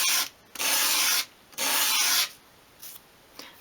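Fine grade sandpaper rubbed over small wooden parts of a 1/12 scale chest of drawers, making a few close, hissing back-and-forth strokes: two long sweeps followed by two shorter, lighter ones.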